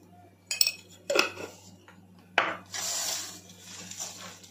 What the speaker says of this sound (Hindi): मिक्स इट वेल, अच्छे से मिक्स कीजिएगा